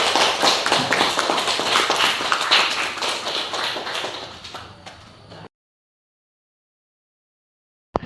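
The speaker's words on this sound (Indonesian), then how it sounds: "Kita berikan aplaus kepada dia." Applause from a classroom of students for a classmate, a dense steady burst of many hands clapping close by for about five seconds before it cuts off abruptly to silence.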